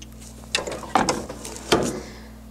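A heat press clamps shut to tack glitter flake heat transfer vinyl at 385 degrees, giving a few close mechanical clunks and ratcheting clicks, with the loudest near the start and another strong one toward the end.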